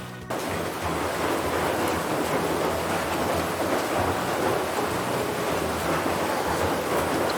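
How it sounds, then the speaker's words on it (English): Heavy rain pours down steadily in a dense, continuous hiss, with a low rumble underneath throughout. "Pouring means the rain is very heavy. It's pouring outside."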